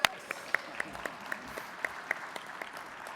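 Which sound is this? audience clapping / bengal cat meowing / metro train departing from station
audience clapping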